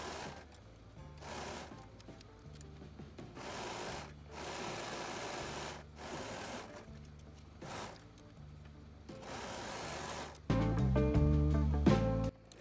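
A sewing machine runs in bursts while stitching all around the waistband of a sundress made from an old bedskirt, its rapid motor whir stopping and restarting in steady runs, growing louder and heavier near the end.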